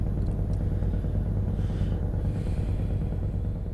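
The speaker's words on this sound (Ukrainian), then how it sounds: "щоб краще було чутно цей нереально крутий двигун. 730 кінських сил V8." A heavy 730-horsepower V8 engine of a Scania S730 truck with open pipes in Euro Truck Simulator 2 rumbles continuously at steady load, a deep, rough drone without talking.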